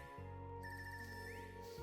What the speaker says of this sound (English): This ringtone.